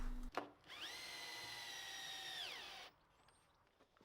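A power drill drives a screw into the wooden frame of a raised vegetable bed: one steady whirring run of about two seconds that slows as the screw seats, close and alone, followed by quiet handling.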